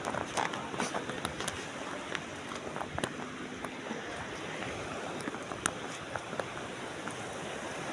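Strong sea waves wash along a tidal shore, a steady broadband roar of surf and wind with scattered splashes throughout, fairly close and continuous without speech.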